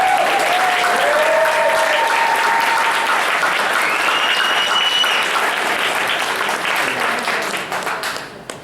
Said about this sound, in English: So if we can give an applause for Crystal.